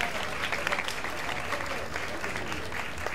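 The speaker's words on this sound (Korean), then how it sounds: "큰 박수" A crowd at a professional boxing match applauds after a third-round TKO win, a steady wash of clapping heard at a moderate distance, fairly faint and continuous.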